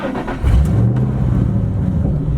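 Straight-piped Ford Mustang GT V8 fires up with a sudden loud low rumble that settles into a steady, throaty idle, close and dominant.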